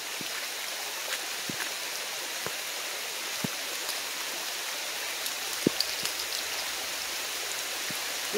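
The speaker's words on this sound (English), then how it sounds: "Rain is here." Steady rain pours outdoors with a constant hiss, broken by occasional faint taps and drips close by; no voices are heard.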